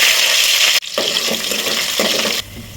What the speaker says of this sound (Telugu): ఆయిల్ అయితే కాగింది ఫ్రెండ్స్ ఇంకా నేనైతే ఇక పచ్చిమిర్చి ఉన్న ఆనియన్స్ అయితే వేస్తున్నాను